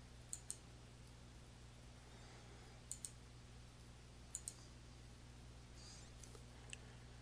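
A computer mouse clicks on the OK button in Excel 2013. Faint, sharp clicks come in a few quick pairs spread over several seconds above a low, steady electrical hum, with no one speaking.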